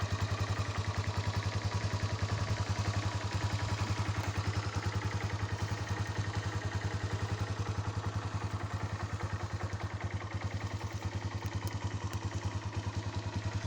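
A Loncin JL150-68 CR1 motorcycle engine with about ten thousand kilometres on it idles steadily close by, a loud, even mechanical chugging with light clatter that holds unchanged throughout, with no voices over it.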